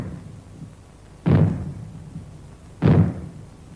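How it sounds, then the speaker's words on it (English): Maroon bangs sounded as a UK fallout warning signal ring out as deep, booming thuds with long decaying tails, two heavy blasts spaced about a second and a half apart, loud and alone. "When fallout is expected, you will hear 3 bangs in short succession. They will be sounded by means of maroons like this."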